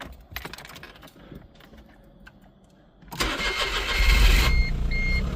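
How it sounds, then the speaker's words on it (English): A Smart Car 451 engine cranks and catches about three seconds in, then runs loud and steady, after a stretch of faint clicking and handling noise. "All right, go ahead, turn your car on"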